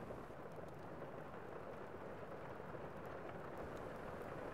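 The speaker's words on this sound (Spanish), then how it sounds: "Está lloviendo." Steady, soft rain hisses evenly throughout, a faint continuous wash with no other sounds.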